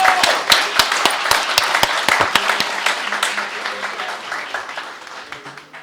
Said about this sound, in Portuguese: eu quero agora uma salva de palmas para todos que estão aqui empenhados nesse trabalho